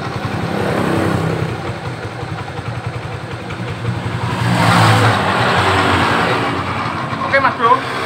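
An automatic scooter's engine revs steadily with a continuous CVT drone and whine, the sound rising louder midway when the rear wheel is held back, with someone talking over it throughout.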